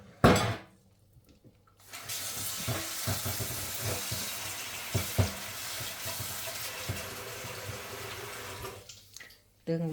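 Eggs fry in a newly bought pan, a steady crackling sizzle that follows a brief clatter. It fades out near the end, and no talking is heard over it.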